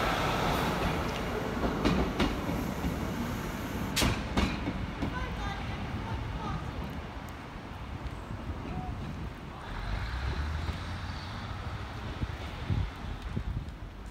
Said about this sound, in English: Here's a late running, not additional, train.